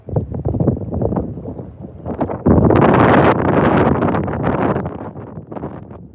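Wind gusts buffet the microphone outdoors on the water at a North Carolina fishing spot, a rough roar that builds sharply partway through and stays loud before easing off.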